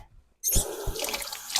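After a moment of quiet, a kitchen tap starts to run while hands are washed during holiday cookie baking, a steady close splash with a few louder gushes.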